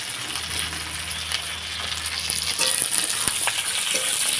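Onion and capsicum fry in a hot pan for chili jackfruit, giving a steady, close sizzle with a few soft clinks of stirring and no talking.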